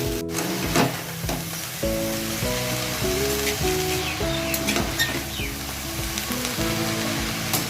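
Leafy greens fry and are stirred in a pan, a dense, close sizzle with scattered pops and spatula scrapes, under light background music and without talk.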